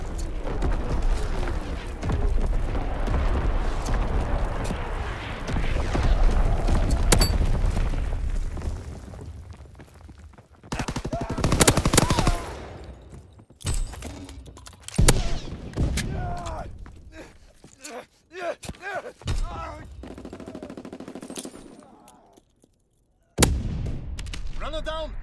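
Artillery and gunfire blasts in a World War II style video game match played as a four-man American squad, with repeated loud bursts and booms over radio-style game voices and player chatter, some sharp isolated hits near the end.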